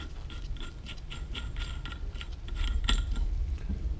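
A retaining nut is taken off a Caterpillar Ten tractor clutch with close, quick metallic ratcheting clicks and small tool clinks that grow a bit louder near the end.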